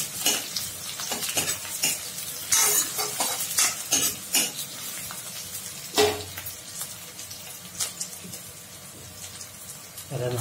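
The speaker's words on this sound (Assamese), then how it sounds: "পাঁচফোৰণ কেইটামান দিছোঁ অলপ সময় লৰাই ল'ম" Panch phoron spices sizzle and crackle in hot oil while a spoon stirs and scrapes the pan, with sharp clatters standing out over a steady frying hiss during an Assamese chicken with jute leaves recipe.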